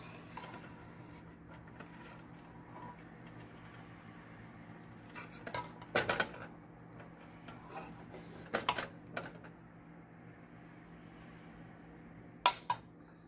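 Cauliflower rice being tossed gently with coriander in a pot, with soft background hum broken by a few crisp metallic spoon clinks and scrapes, spaced irregularly and fairly close.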